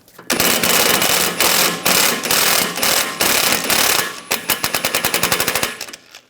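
A ratchet with a T50 socket rapidly loosens a tie rod bolt on a 2009-2013 BMW 328i xDrive, giving loud, close bursts of clicking, then a faster string of separate clicks toward the end.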